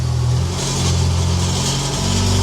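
A Mitsubishi Evo X engine, with the car up on a lift, hums through light revs in a steady, low, droning tone, with no talking.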